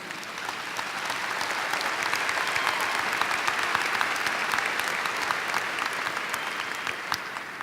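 An indoor audience gives sustained applause for their teachers, a dense, steady clatter of many hands clapping throughout, with no one speaking over it.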